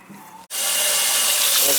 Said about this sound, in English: It's draining fine.